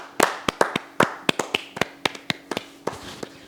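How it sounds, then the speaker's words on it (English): A small group gives a slow golf clap, about twenty sparse, crisp hand claps at an uneven, unhurried pace, close and distinct with quiet gaps between them. "Let's just give a slow clap,"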